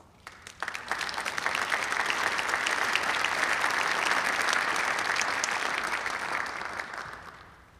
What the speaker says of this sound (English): Thank you all for your applause.